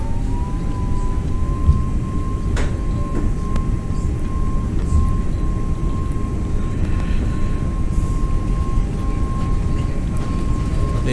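Airliner jet engines spooling at TOGA takeoff thrust in Microsoft Flight Simulator, a steady broadband roar with a sustained high whine, continuous and loud throughout with no talk.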